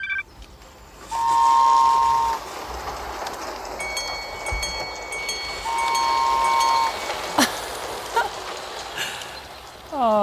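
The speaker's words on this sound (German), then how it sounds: "So, der Zug ist durch, die Schranke kann wieder hoch." A train rumbles past with rattling wheels while a crossing signal sounds in two long tones; people talk briefly.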